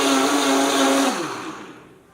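A blender running at top speed blending a sandwich whirs loudly and steadily, then its motor pitch sinks as it spins down and fades out.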